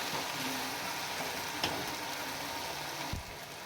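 Macaroni masala sizzles and fries in a pan with a steady, close hiss that runs throughout, broken by a couple of brief clinks from stirring.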